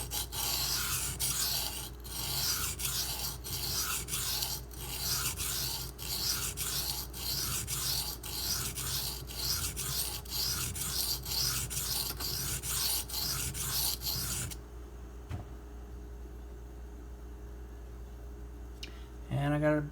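An M390 steel knife is sharpened on a Takarazukushi 1k/4k whetstone, with a long run of steady, rhythmic gritty strokes of blade on stone, then a quiet stretch and a brief scrape at the end.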